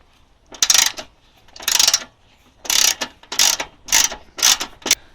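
A ratchet with an 11mm socket backs out bolts on a Victa push mower chassis: seven quick, bright clicking bursts, close and evenly spaced, with short pauses between them.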